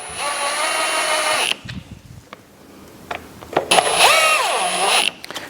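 A Ryobi cordless power tool tightens the timing chain bolts on a Vauxhall Corsa 1.2 engine in two whirring bursts. The motor revs up and down in pitch, with a short quiet gap and clicks between the bursts.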